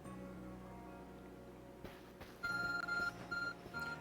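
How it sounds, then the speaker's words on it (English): An in-game arc phone in Pokemon Legends Arceus gives off electronic beeps, short repeated tones that start partway through and sound over a steady hum of background game audio. "Your arc phone is beeping."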